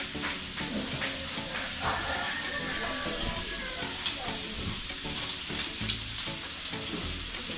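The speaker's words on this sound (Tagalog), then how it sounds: "nagluluto ng isda. Prito yata." Fish frying in hot oil gives a steady close sizzle and hiss with scattered pops and crackles throughout, while quieter background sounds run underneath.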